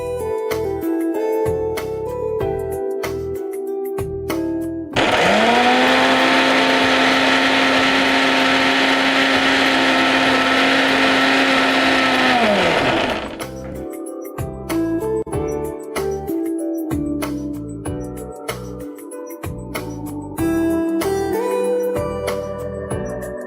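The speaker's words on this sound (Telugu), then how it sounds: "ఇప్పుడు ఇది మనం మిక్సీ పట్టేసుకుందాం." A mixie grinder whirs loudly and steadily for about eight seconds while blending ragi flakes with salt and water, starting and stopping abruptly between quieter kitchen sounds.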